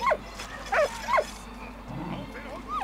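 A dog in the video game Valiant Hearts gives three short yelping barks followed by softer whimpers and whines, close and fairly quiet over a low background hum.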